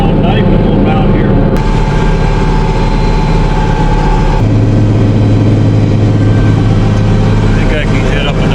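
A tractor pulling a plow across a hay field drones steadily and loudly close by, the engine note holding constant with a deeper hum settling in midway, and speech is picked up over the top of it.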